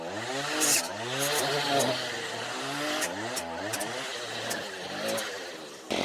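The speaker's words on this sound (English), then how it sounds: "while the chainsaw is warming up." A chainsaw engine warming up outdoors beside trees, idling and revving repeatedly in uneven surges, fairly close and steady, with brief sharp mechanical clatters in between.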